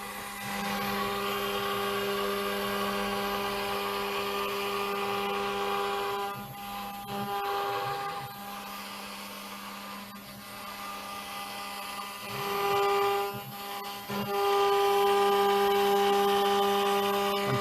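A CNC router spindle cuts a logo with light, shallow passes, a steady high machine whine with pitch dips and brief scraping bursts as the spindle moves up and down, loud and continuous with no speech.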